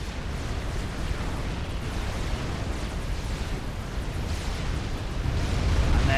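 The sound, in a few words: strategic bombers dropping bombs, explosions in video game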